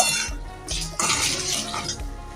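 Spices for shukto, a Bengali mixed-vegetable dish, are stirred in a pan, with a spoon scraping and clinking against the metal in short, uneven strokes up close. A brief pause falls between movements.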